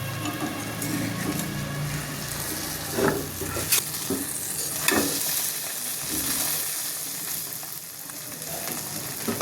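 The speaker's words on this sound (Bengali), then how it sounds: "একটু লো ফ্লেমে আমরা 10 মিনিটের জন্য ভেজে নেব, তারপরে উল্টিয়ে দেব।" Shing fish paturi wrapped in banana leaf frying on a low flame, a steady close sizzle with a few soft knocks and pops scattered through it and no voices.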